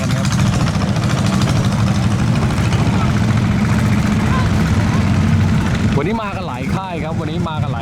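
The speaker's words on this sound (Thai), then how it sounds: "วันนี้มาดูรถไถนา" A farm tractor engine idles with a steady low rumble close by, and a voice talks over it near the end.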